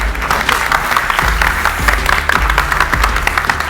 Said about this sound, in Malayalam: എല്ലാവരും നിറവാർന്ന ഒരു കയ്യടി തരിക